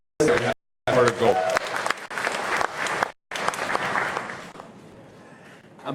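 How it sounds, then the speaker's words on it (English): An audience claps for Superintendent Mahi at the Nanakuli Waianae Complex Area Learning Summit, loud clapping mixed with a speaker's voice over a hall PA, broken by brief silent gaps. "let's give a round of applause for Superintendent Mahi"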